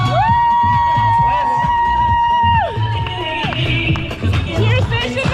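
A crowd cheers and whoops at a half marathon cheer station during the Lululemon SeaWheeze race, with sustained horn-like tones ringing over steady close crowd noise and babble.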